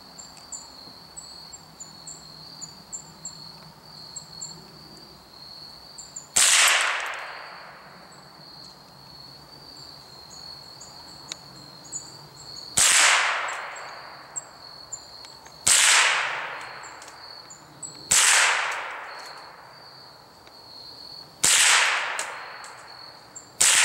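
A Ruger 10/22 rifle fires five sharp, separate shots spaced a few seconds apart at an outdoor target. Each crack rings out and decays quickly over a steady background of insect chirping.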